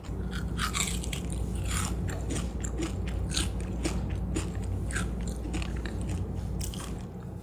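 Homemade Dubai chocolate bitten and chewed up close, giving loud, crisp crunches in a rapid irregular series over about seven seconds, with no voices.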